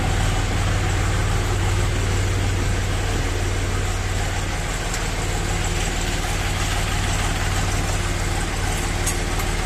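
A Kentavr 244SDX mini tractor's small diesel engine idles steadily and loudly, its low, even rumble continuing without a break from start to finish.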